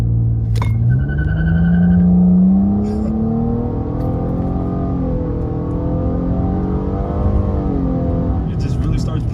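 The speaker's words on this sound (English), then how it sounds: "We're gonna give you guys a nice launch real quick." A 2018 Nissan Maxima launches hard, its engine note climbing steeply in pitch through the first seconds, then settling into a loud sustained pull with rising harmonics, close and continuous, with brief clicks and rattles mixed in.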